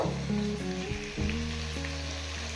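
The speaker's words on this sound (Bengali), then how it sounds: "এই দুই মিনিটে চিকেনের এক সাইড ফ্রাই হয়ে গেছে এবার আরেক সাইডটা ফ্রাই করে নেব" Chicken pieces frying in hot oil for Delhi-style chicken changezi, a soft steady sizzle beneath a loud tonal hum with shifting pitches, no one speaking.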